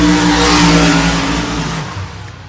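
Race trucks without blower engines rev hard and accelerate off a drag-racing start line, a loud, sustained engine roar that fades as they pull away.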